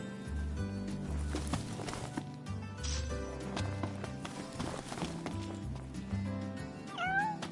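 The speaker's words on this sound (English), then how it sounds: "Hey, you're the cat we saw in Galden." A cat meows in the video game Final Fantasy XV amid game music and background sounds, with a short rising cry near the end.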